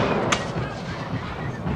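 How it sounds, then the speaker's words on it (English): A distant cannon fires a solid iron cannonball in a Battle of Bunker Hill battle scene, a single sharp crack early in a brief, noisy stretch of rumbling background, under a speaking voice. "That's a tremendous explosion from a cannon in the distance there."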